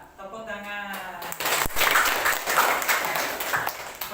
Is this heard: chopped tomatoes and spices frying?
no